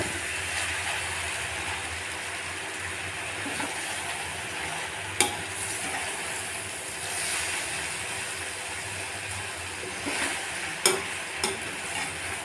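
Boiled noodles for veg Hakka chow mein are stirred and tossed in a frying pan, giving a steady broadband sizzle with occasional scraping clicks from the utensil against the pan, close and continuous with no talking.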